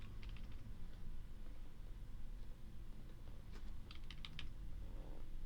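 Computer keyboard arrow keys tapped in quick, faint clicks, a short cluster of light presses against a low room hum.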